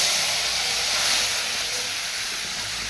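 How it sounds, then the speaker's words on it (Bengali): Whole garam masala spices dropped into hot oil, giving a steady, loud, close hiss of sizzling that holds evenly throughout with no talking. "এবার গোটা গরম মশলা ফোড়ন দিয়ে দেবো"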